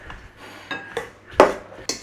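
Salt being mixed into mushrooms in a bowl, four or five short clinking, scraping strokes spaced a fraction of a second apart, close and fairly loud.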